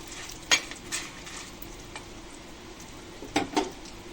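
Fennel seeds, chana dal and rice dry-roasting in a pan for mutton kulambu, with a few soft stirring scrapes and light clinks over a faint low sizzle, fairly quiet and without speech.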